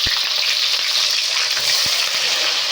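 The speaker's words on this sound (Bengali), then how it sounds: "এখন আমি তেলের মধ্যে পেঁয়াজ কাঁচামরিচ টমেটো দিয়ে ভাজা নিতেছি।" Onion, green chili and tomato frying in hot oil in a pan, giving a close, steady sizzle with a couple of sharp utensil knocks and no talking.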